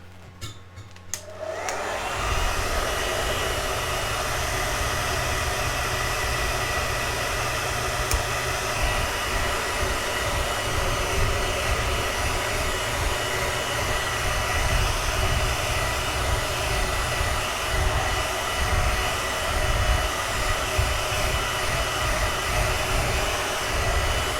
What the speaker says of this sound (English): I'm just going to get my hairdryer out.